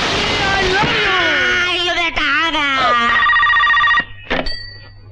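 A telephone rings in a Bollywood comedy film scene, heard as loud electronic tones mixed with sliding, wailing vocal sounds, before the ringing cuts off near the end.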